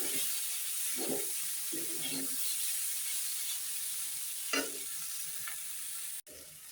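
Previously fried small fish being stirred into a simmering vegetable charchari, giving a few soft scraping stirs over a constant low frying hiss, no one talking.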